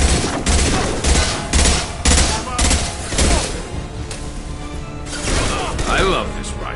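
Rifle fire in the video game Mass Effect 2 comes as loud, rapid bursts of shots, several volleys in a row with short pauses between them and crackling impacts toward the end.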